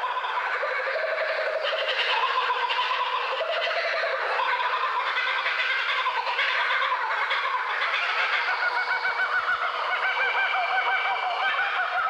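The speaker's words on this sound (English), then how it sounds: "This chorus of raucous laughter from one group of kookaburras proclaims their territory to neighbouring clans." A group of kookaburras in the Australian bush calls in chorus, a dense, raucous, continuous cackling laughter from several birds that fills the whole stretch without pause.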